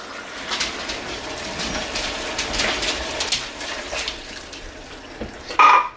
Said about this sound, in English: I'm going to add the last can of water.